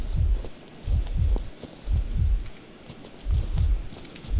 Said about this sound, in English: It really doesn't sound safe with how loud the heartbeat is right now.